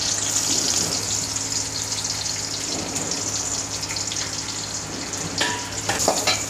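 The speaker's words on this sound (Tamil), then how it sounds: "பொடியாக நறுக்கி வச்சுருக்க ஒரு வெங்காயம் அதில் போட்டுக்கோங்க." Finely chopped onion sizzles in hot oil with cumin in a pan, a loud, continuous frying hiss with occasional stirring scrapes toward the end.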